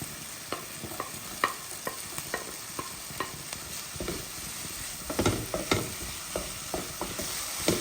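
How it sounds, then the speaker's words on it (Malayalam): Capsicum is stirred into a frying mixture in a pan, a continuous sizzle broken by frequent scraping and tapping strokes of a spoon, close by and with no talk. "നമുക്ക് ഇതിലേക്ക് നമ്മുടെ ക്യാപ്സിക്കം ഇട്ടിട്ട് നമുക്ക് മിക്സ് ചെയ്തെടുക്കാം"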